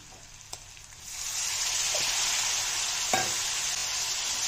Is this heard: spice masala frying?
yes